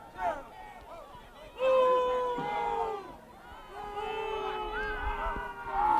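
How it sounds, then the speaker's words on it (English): An away crowd at a high school varsity football game jeers a sideline warning with drawn-out, howling boos. The loud swells rise and fade across the stands. "It's the Bishop Ludden away crowd not liking that warning right there."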